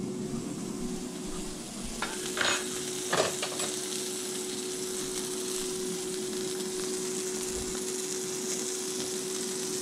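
Sausage frying in a pan, a steady low sizzle throughout with a few soft scraping and clinking touches near the middle.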